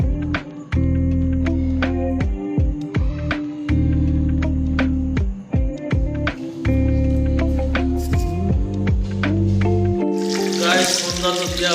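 Water is poured as an offering to deities during home worship, a close splashing rush near the end that follows a long stretch of steady, sustained devotional singing or music.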